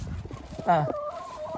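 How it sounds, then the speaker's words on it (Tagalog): A chicken clucks and squawks briefly while chickens are being fed, over a busy background of other chickens, with people talking quietly nearby. "So magpapatuka lang tayo ng manok."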